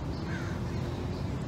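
Crows cawing from a tree overhead, a steady outdoor wash of harsh calls and ambient noise with no clearly separated individual caws, fairly continuous throughout.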